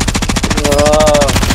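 Gunfire in the video game Warzone on Rebirth Island: a loud, rapid automatic burst of evenly spaced shots, close and sustained, with no talk over it.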